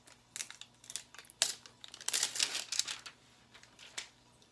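Plastic seal packaging on three-liter soda bottles being torn open along its perforations, a quick series of close crinkling rips and crackles.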